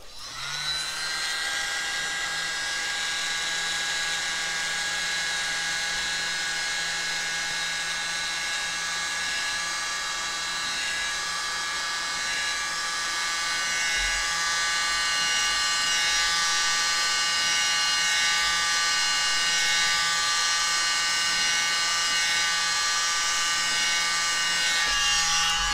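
A hair dryer blowing across poured acrylic paint to raise cells, a steady whining electric motor drone held close and constant for the whole stretch with no talking.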